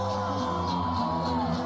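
A crowd at a Coachella K-pop concert screaming and whooping continuously, a dense, steady roar of many voices heard at a distance with music tones underneath.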